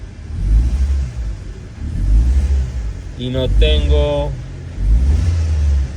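A Chevrolet Cruze engine revs in low rumbling surges as the throttle is pressed repeatedly, while someone speaks Spanish over it partway through.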